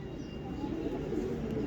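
A clear-eyed pigeon coos in a low, soft murmur, close by and steady, with no clear talk over it.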